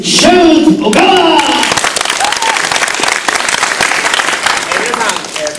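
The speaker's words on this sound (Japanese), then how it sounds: "大きな拍手でお迎えください。" An audience breaks into loud, sustained applause to welcome magician Shoot Ogawa at the MMO2008 semifinal, the clapping steady and dense after a voice speaks briefly at the start.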